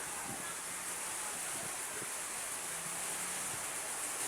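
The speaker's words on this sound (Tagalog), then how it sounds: "Grabe na hangin guys." Strong typhoon wind from Typhoon Tino roars as a steady, broad rush with microphone buffeting, faint and continuous, with a voice briefly heard underneath.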